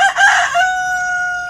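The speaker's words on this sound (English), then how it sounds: "There's a few roosters who are around us here in Murfreesboro." Rooster crowing near Murfreesboro, a single loud, close cock-a-doodle-doo whose rising middle section fades into a long, steady held tone at the end, with no voices over it.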